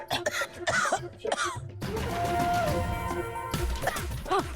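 A person coughs forcefully and loudly on cue in a TV drama scene, with brief voices talking just before and after.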